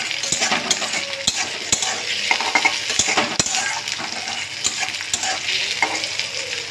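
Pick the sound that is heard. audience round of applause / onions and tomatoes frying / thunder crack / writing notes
onions and tomatoes frying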